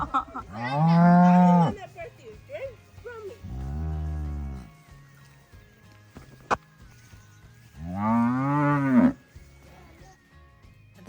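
A low-set Jersey cow that has just calved twins lets out three long, deep moos, loud and close, with quieter stretches of barnyard sounds between them.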